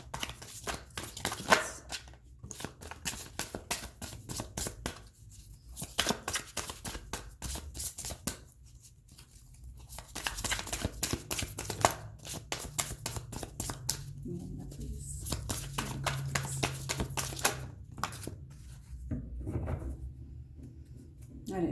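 Tarot cards shuffled by hand in repeated bursts of quick, close riffling and slapping, separated by short pauses, with a voice talking quietly at times.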